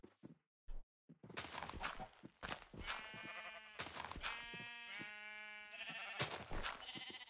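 Minecraft sheep bleat in several wavering, nasal cries in close succession, loud and near, alongside a few soft thuds of footsteps, with no talking.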